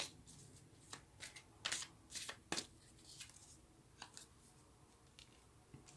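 Tarot cards are shuffled close by, a series of quiet crisp riffling bursts and soft slaps at an uneven rhythm.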